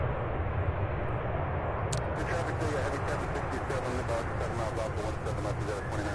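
A Boeing 747 jet at the UPS Worldport at Louisville airport gives off a broad, steady engine roar at some distance, with a voice talking over it.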